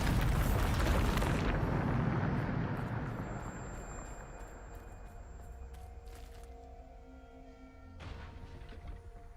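A Bombarda blasting spell explodes in Hogwarts Legacy, a loud broadband boom that bursts at the start and rumbles away over several seconds, with faint magical chimes and a smaller thump near the end.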